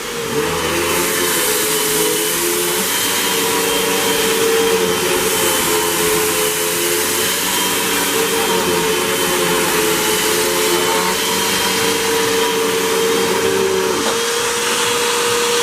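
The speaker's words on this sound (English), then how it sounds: "Now let's try this Hoover." A Hoover WindTunnel 2 upright vacuum cleaner with a gone brush roll runs loud and steady at close range, holding a constant motor whine for the whole stretch with no talking.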